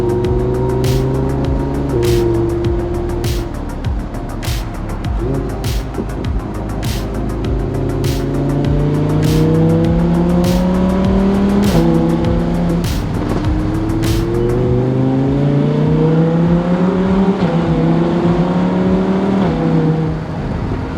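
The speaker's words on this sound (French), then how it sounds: "Et nous voici maintenant à bord de cette splendide Audi R8 V10 Plus Spider. Et vous l'entendez, ça ne manque pas de son." Audi R8 V10 Plus Spyder V10 engine heard from on board while driving, a loud continuous roar rising and falling through gear changes, revs climbing in repeated sweeps, with road and tire noise beneath.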